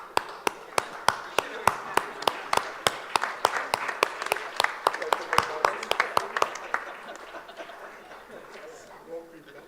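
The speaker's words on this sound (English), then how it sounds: "let's stand up and applaud for this Super" An audience at a panel on private equity investing in India claps, with many sharp, fast, uneven hand claps at close range, building and then thinning out slowly over about ten seconds.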